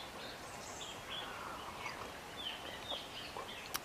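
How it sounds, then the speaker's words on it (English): Birds sing outdoors in the morning near a deck overlooking a view, with scattered faint chirps and short whistled calls over a steady background hiss, no voices. "you can hear the birds in the background"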